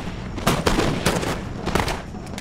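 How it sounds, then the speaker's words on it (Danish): Volleys of musket fire aimed at Russian troops in Empire: Total War, with dense overlapping cracks and booms in bursts that roll on without pause, loud and close. "Så vi kan skyde på de russiske tropper"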